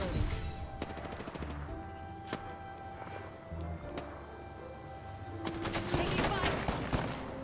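Rapid gunfire bursts and scattered single shots crackle through a video game firefight, dense and continuous at moderate distance, growing louder toward the end.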